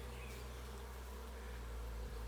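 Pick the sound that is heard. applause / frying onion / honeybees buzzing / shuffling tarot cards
honeybees buzzing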